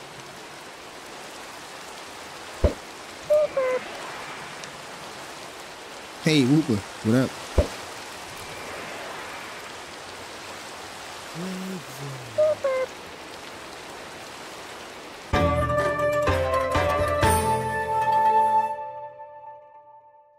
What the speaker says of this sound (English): We're going to chill out and relax until the rain stops.